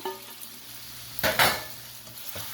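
Cabbage and capsicum stir-fried on high heat for chicken and vegetable fried rice, a quiet sizzle that swells into a loud scraping toss of the pan at mid-clip, then settles back.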